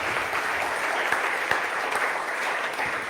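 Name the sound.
congregation applause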